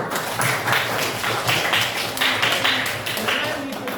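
A class clapping hands during a school lesson, a sustained burst of many small hands applauding together in a lively rhythm, close and fairly loud, with a few voices mixed in.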